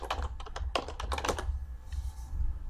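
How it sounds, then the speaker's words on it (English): Someone types a short word on a computer keyboard, a quick burst of crisp clicking keystrokes, then the clicks stop and a quiet hum remains. "type the word modern in here"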